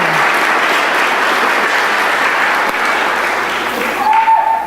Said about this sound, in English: Thank you for that round of applause